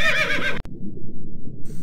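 A human voice imitates a horse neighing, giving a short, shrill whinny-like cry of about half a second that cuts off abruptly into a noisy background.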